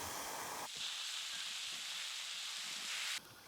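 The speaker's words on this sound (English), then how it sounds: "I'm just going to tip this water straight into the frying pan. You hear it sizzling away there" Water poured into a hot cast iron frying pan over a campfire sizzles loudly and steadily, a dense hiss that kicks in abruptly, holds for about two and a half seconds, then drops back to a softer crackle.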